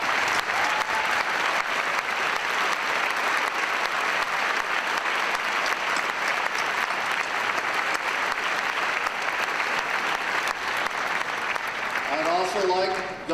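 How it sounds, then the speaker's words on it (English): A graduation audience at a high school ceremony applauds service members and first responders with a sustained, dense, loud round of clapping that holds steady throughout. It thins only at the very end, where a voice begins. "Please stand, and let's give these folks a round of applause."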